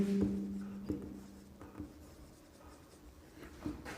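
A pen or marker writes during a biology lesson, with faint scratchy strokes and soft taps in short bursts, and a low hum fading early on.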